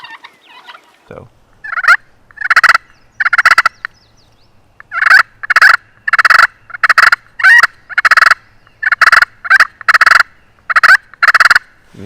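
Fighting purrs from a turkey call worked with a striker, a loud run of about a dozen short, rolling raspy bursts of uneven length, close and alone with brief gaps between them.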